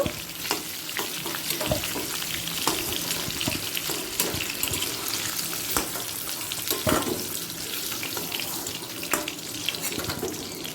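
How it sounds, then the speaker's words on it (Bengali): A halved bay leaf and a dried chili fry in hot oil in a pan, making a loud, continuous, crackling sizzle with frequent sharp pops and spatters throughout. "একই তেলের মধ্যে দিয়ে দিচ্ছি একটা তেজপাতাকে অর্ধেক করে আর একটা শুকনো লঙ্কাকে কাটিয়ে দিলাম"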